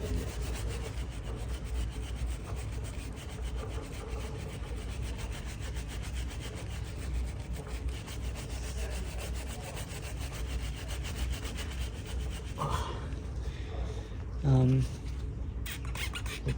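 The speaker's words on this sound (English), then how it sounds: "Literally just gonna have to keep scrubbing it." A brush scrubs the chain of a Ducati S2R 1000 motorcycle with paraffin in fast, steady back-and-forth strokes, a close rasping sound that continues throughout, with a few knocks near the end.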